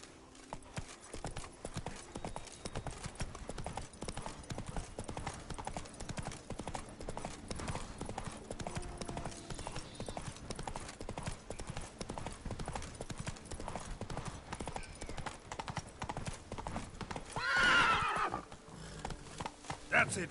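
Roach, Geralt's horse from The Witcher, gallops in a steady rapid clip-clop of hooves throughout, with a loud whinny near the end.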